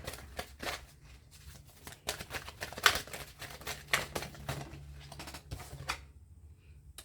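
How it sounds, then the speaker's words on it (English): A tarot card deck being shuffled by hand, a run of crisp riffling and shuffling bursts of papery card snaps, close and fairly quiet, with no one talking. "I want to shuffle this deck since I didn't really get to shuffle from pile one"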